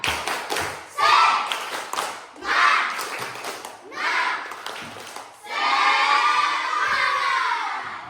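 A primary-school class chanting and clapping a rhythmic group spirit clap in the classroom, loud bursts of voices and hand claps in short phrases, ending in a sustained shout and clapping.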